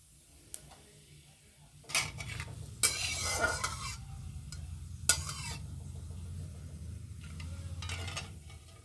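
Bay leaf, cumin and whole garam masala frying in oil, a quiet sizzle with bursts of louder crackle as the spices are stirred, plus metal utensil clinks against the pan.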